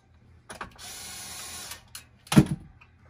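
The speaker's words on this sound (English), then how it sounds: "electric string winder makes the job a lot quicker though." A small electric string winder whirs briefly as a guitar is restrung, a short steady buzzing motor burst between a few clicks and a sharp knock, close and fairly quiet.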